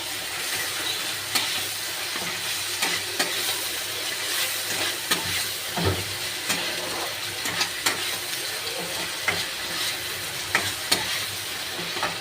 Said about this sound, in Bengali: এবার আমি আদা রসুন আর হালকা একটু পেঁয়াজও বাটা আছে সেটা দিয়ে দেব, দিয়ে হালকা একটু নেড়ে নেব।